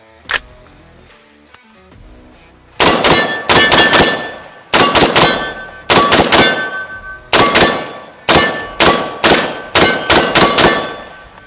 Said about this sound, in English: I'm gonna just mag dump this and let's see how the barrel hop compares to the SCAR.